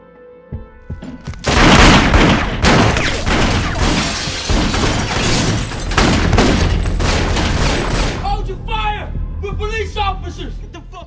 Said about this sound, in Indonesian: Lalu tiba-tiba ada sebuah tembakan dari atap kamar tersebut yang menembaki mereka.